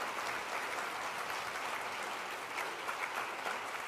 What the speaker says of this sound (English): Let's give another round of applause to the USC Thornton Percussion Ensemble.